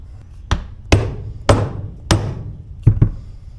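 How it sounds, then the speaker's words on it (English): Heavy hammer blows pound on a stuck part, six close, forceful impacts at uneven intervals, ending in a quick pair of strikes, with nothing else audible. "I'll get a bigger hammer if I have to."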